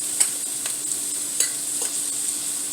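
Vegetables stir-frying in a pan at home, a steady soft sizzle with occasional light scraping clicks of stirring, close and continuous with no talking.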